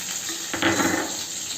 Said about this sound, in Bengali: তেলের মধ্যে আমি আলুগুলোকে আগে ভেজে নেব